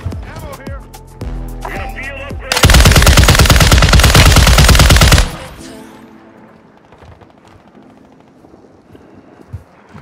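Sustained machine gun fire in a multiplayer shooter video game, a dense loud burst lasting about three seconds after voices talking, followed by quieter scattered game sounds.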